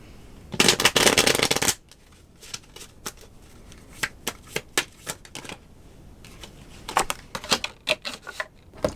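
Tarot cards are shuffled up close in one dense riffling burst, followed by a string of sharp, separate card snaps and flicks as the deck is handled, with no talking.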